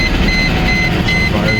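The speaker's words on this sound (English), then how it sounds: "Fires up." A Mercedes SL500 R129 V8 starts up after sitting, settling into a steady, loud idle that runs without a break through the short span.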